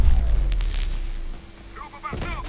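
EMP cannon firing in Call of Duty Advanced Warfare, a deep thudding blast with a rolling low rumble, then a voice speaks briefly at the end.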